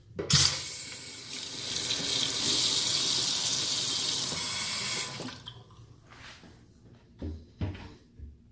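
Hot water gushes loudly and steadily from a tap in the upstairs master bathroom of a house for about five seconds, then shuts off, followed by a few faint clunks and knocks.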